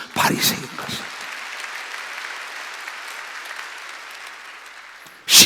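A church congregation at an Easter Sunday service bursts into broad, sustained clapping. After a brief louder peak the applause settles into an even roar that holds for several seconds.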